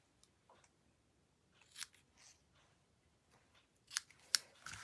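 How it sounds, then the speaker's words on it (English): Ribbon scissors snip through ribbon in a few quiet, crisp cuts, faint and close, with a couple of sharper snips near the end while a bow is being trimmed. "Bring in my ribbon scissors."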